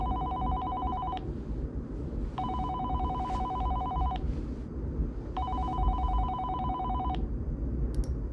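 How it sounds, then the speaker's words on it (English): A telephone rings in a video game, three steady electronic ring bursts about a second and a half long each, separated by pauses, over a constant low rumbling background. "There's a phone call."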